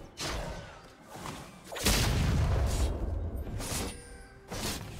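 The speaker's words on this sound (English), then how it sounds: "Blue team's turret has been destroyed" A turret collapsing in League of Legends, with a heavy crashing boom at about two seconds followed by rumbling debris, set among other game effects and whooshes.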